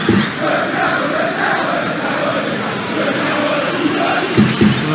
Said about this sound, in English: Well, the crowd aren't happy.